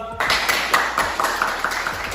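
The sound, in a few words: clapping from class participants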